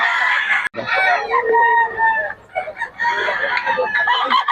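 A stag gamecock at a Bocaue market crows loudly and close by, two or three ragged crowing calls with clucks between, while people talk nearby.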